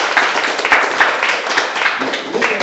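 A live audience at a multimedia makers roundtable applauds the event's hosts, giving steady, dense clapping that holds throughout at a fairly loud level, with a few sharper individual claps standing out near the front.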